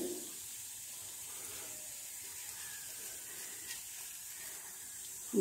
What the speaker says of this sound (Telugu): ఆయిల్ హీట్ అయిన తర్వాత మనం తాలింపు గింజలు వేసుకోవాలి.